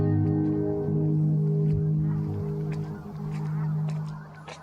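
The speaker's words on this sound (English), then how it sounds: "a large number of Canada geese flew in and landed" A large flock of Canada geese flies in and lands at the far side of a reservoir, with repeated honking calls over a dense, layered low hum. The calls stay fairly loud and continuous, then thin out toward the end.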